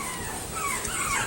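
Four-week-old rat terrier puppies whimpering in a litter, a steady run of soft, high whines and yips close by, continuous for the whole moment with no talk over it.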